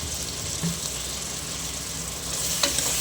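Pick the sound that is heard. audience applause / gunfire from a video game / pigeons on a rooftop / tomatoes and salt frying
tomatoes and salt frying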